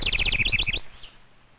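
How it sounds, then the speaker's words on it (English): A small brownish wren sings a rapid, bright trill of repeated high notes for under a second, close and clear, then stops, leaving a faint fading tail of room noise. "We can learn to know wrens by their sound."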